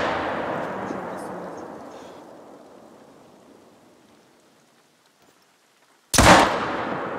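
A single sharp gunshot from a PC hunting game fires near the end, loud and abrupt, after several seconds of fading low rumble and near silence.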